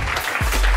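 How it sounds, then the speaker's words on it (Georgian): A burst of clapping from a small group welcoming a new member onto a cheerleading squad. It is brief and steady, fairly close, and rises slightly toward the end. "აბა ყველამ, აპლოდისმენტები"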